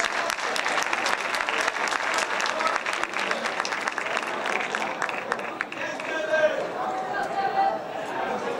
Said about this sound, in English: Give a big round of applause to our alternate award winners.